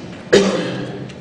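A man coughs once during a jail strip search, a single sharp, close burst that trails into a breathy throat sound.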